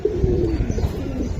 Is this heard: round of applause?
no